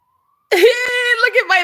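A voice imitates a small dog like a chihuahua howling: a short, high, wavering wail lasting about a second, loud and close after brief silence.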